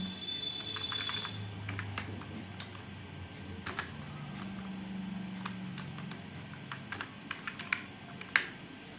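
Computer keyboard typing while entering an enrollment number in PageMaker for an ID card design: a run of light, irregular clicking keystrokes, fairly close, over a faint low background hum, alone with no talking.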